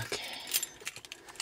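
Keys jangle and clink in a few short metallic bursts, close by, with brief pauses between shakes.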